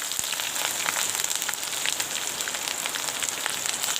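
Ginger fries in hot oil with cinnamon, bay leaf and garlic for chicken, a steady close crackling sizzle with scattered pops throughout.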